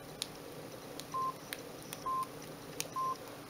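A Samsung D100 flip phone's keypad, set to its harpsichord key sound, gives three evenly spaced short pitched beeps, each with a faint button click, close and quiet in a still room.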